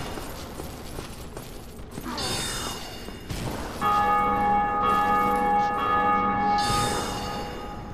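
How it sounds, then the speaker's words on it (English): A large bell tolls in the game Dark Souls, a few resonant strikes with long ringing overtones that sustain and decay, fairly loud amid faint game ambience. "that's where the bell is, sounds like"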